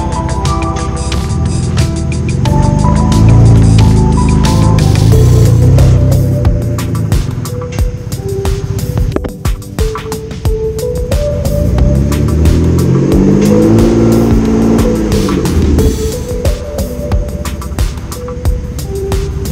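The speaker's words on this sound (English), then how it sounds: "Give it a little gas, see if when it goes to the second and to third gear," A BMW E46 325i engine revs up under throttle as the automatic transmission works through second and third gear during a transmission replacement test, a steady loud drone with rising and falling pitch sweeps and a brief dip near the middle.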